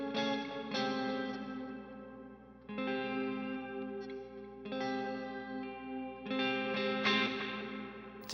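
Electric guitar with the pickup in split position, strummed in a series of chords that ring out, shaped by chorus and light distortion, sounding clear and moderately loud with short gaps between strums.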